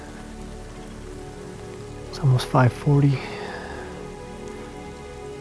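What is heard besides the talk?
light rain falling in the woods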